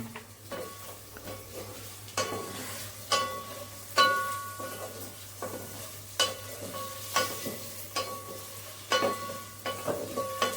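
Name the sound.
chillies, onions and tomatoes frying in pan for paneer biryani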